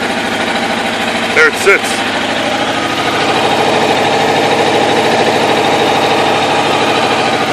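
A 1986 Kawasaki Ninja 1000R motorcycle, warmed up, idles steadily at close range with a smooth continuous drone, while a brief spoken remark passes over it near the start.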